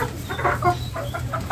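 Sonali and desi chickens cluck close by in a brief burst of several soft, quick clucks, with no talk.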